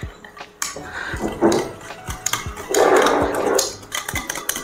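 Christmas cake batter with powdered sugar being beaten in a bowl, irregular rapid clattering and knocking strokes in bursts, close and fairly loud, with no talking.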